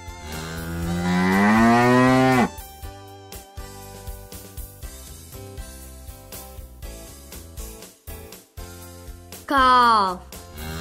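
A cow moos once, a long loud harmonic call lasting about two seconds over soft background music, followed by a second shorter moo near the end.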